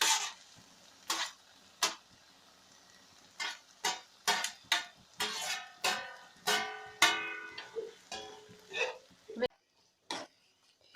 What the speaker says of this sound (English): Here I've mixed this pasta all together with the masala